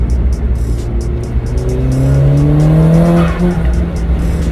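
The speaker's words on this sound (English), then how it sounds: "Definitely changed up the sound of the blow-off valve." A VW GTI's K04 turbocharged engine revs loud and close, its tone climbing steadily over a few seconds before easing off, with a rapid ticking pulse running on top.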